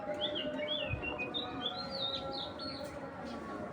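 Racing pigeons of fine feather quality at a breeding loft give a string of thin, high calls and chirps over steady background hum, with brief squawks standing out near and moderately loud.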